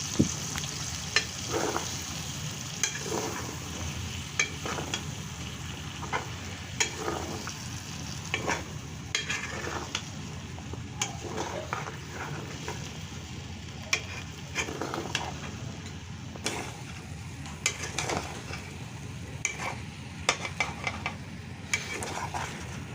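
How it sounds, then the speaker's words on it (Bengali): Potatoes fry in oil with a blended onion and garlic paste, giving a steady low sizzle with scattered scraping and stirring clicks throughout, fairly quiet and close, with no talking. "আরও কিছুক্ষণ ভাজবো তেলের মধ্যে পেঁয়াজ রসুন বাটাটার সাথে আলুগুলো"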